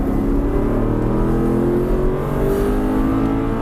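An Aston Martin V8 Vantage accelerates hard on the Silverstone circuit, its engine a loud, continuous rising drone with no talk over it.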